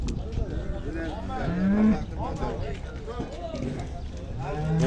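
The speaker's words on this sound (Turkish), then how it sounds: "Burada ne inekler getirmişler?" Cattle at a large-livestock market in Ceyhan, Turkey, let out deep, drawn-out moos over a constant murmur of voices, shuffling and crowd noise.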